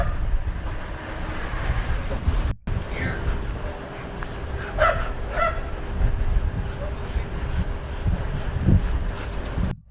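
A police K-9 yelps and barks in short, sharp bursts amid a chaotic street scuffle, partly masked by steady rushing background noise and nearby voices.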